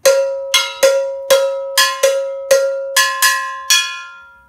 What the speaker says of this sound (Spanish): Y en la campana sonaría de esta forma